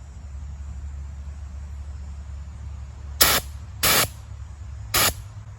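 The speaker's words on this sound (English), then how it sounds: "Now our angry bear is now covered in pepper spray." Pepper spray hisses at a bear in three short bursts, loud and close, over a low rumbling background of wind and movement.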